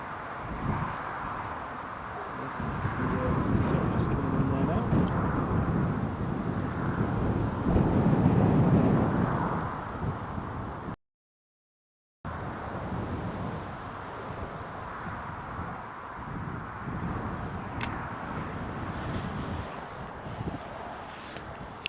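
A British Airways airliner at Newcastle International Airport roars loudly under blustery crosswind conditions, a broad, rumbling engine noise swelling for several seconds and then easing to a steadier, fainter rush after a brief gap.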